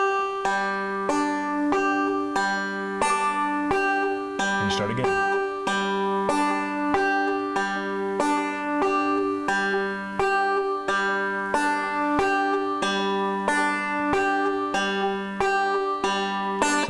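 Picked banjo notes run in an even, repeating 5-3-1 roll, each note with the same length and loudness, ringing clearly and close for a long stretch with one brief pause.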